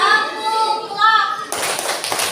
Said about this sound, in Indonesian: Coba sekarang kita tepuk love ya untuk mengakhiri pembelajaran hari ini.